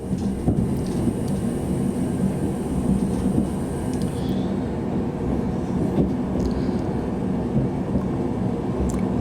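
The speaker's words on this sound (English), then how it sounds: "Just pulling into Scarborough now." A TransPennine Express train pulls into Scarborough station, a steady low rumble of wheels and motors filling the carriage, with a brief higher whine fading partway through and no talk.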